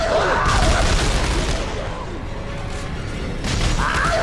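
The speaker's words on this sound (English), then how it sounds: "so I just shoot it. Blow up the necromorph." A heavy explosion bursts as a necromorph is shot and blown apart in Dead Space 3, a loud low boom followed by rumbling debris, with a second blast swelling near the end.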